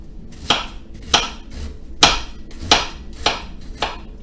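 A knife slicing a sweet yellow onion into quarter-inch rounds on a cutting board, seven crisp, evenly spaced chops ringing out close and clear with no talking.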